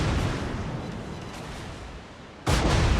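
Heavy warship guns fire in World of Warships during a ranked naval battle: a dense, rumbling roar fills the clip and then cuts to a brief lull, followed by a sudden loud blast burst near the end.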